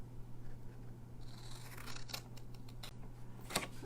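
Scissors cut down paper for a fancy Christmas gift box, giving a few short, close snips over a steady low hum, with no talking.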